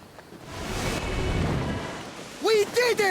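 A thunderstorm at sea in Assassin's Creed Odyssey roars with a broad wash of heavy rain and wind, rumbling continuously before a voice calls out loudly over it near the end.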